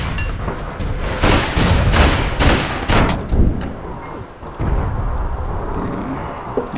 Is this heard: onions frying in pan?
no